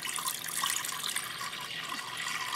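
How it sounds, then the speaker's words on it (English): Water runs from a tap into a pet's water bowl, a quiet steady hiss and splash that continues throughout without any talking. "Fresh water for Raja"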